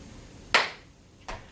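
Hands clapping in a children's action song, two sharp separate claps about three quarters of a second apart, the first louder than the second, over a quiet background.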